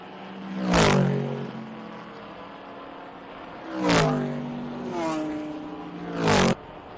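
Vintage race cars, including a BMW M3, scream past one at a time at Indianapolis Motor Speedway during an SVRA International GT race, three loud pass-bys with sharp rising and falling engine pitch and a fainter car between them.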